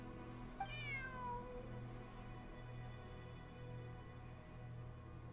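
A cat in a video game gives a single short rising meow near the start, clear and close, then only a soft ambient hum remains.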